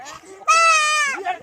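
A goat gives one loud, close bleat with a wavering, nasal tone, framed by brief quieter vocal sounds just before and after.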